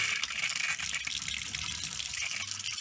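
Water runs steadily from a tap, a continuous hissing gush with no pauses, fairly quiet and close.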